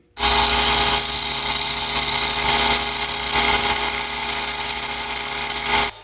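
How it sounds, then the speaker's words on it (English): Bench grinder wheel tapering a 5/8-inch steel spade bit, a loud, steady high-pitched grinding whine with a low motor hum underneath, running continuously for about six seconds before cutting off abruptly. "we're going to take this 5/8 spade bit, put it here on the grinder, and taper it down"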